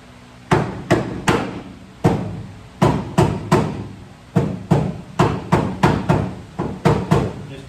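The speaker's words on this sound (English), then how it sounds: "you will have to give them a little tap, just a little tap. A little light rubber mallet" Light rubber mallet tapping a part into place: a long run of firm, close knocks, some in quick pairs and triplets, with short pauses between groups.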